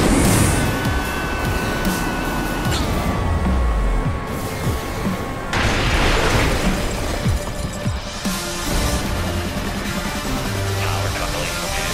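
Dense, continuous rumbling blasts and crashing debris from building demolition explosions in the game ScreamRide, loud and sustained, with repeated booming impacts layered over a heavy roar.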